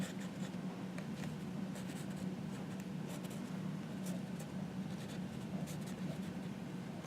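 Pen scratching and scribbling across a fragile paper napkin, a steady close scratchy rustle that runs continuously with small bursts of stroke sounds over a low background hum.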